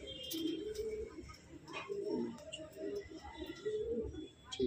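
Malwai pigeons coo continuously in soft, low, rolling phrases close by, with faint chirps and some rustling in the background.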